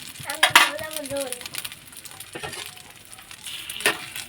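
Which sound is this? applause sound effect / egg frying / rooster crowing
egg frying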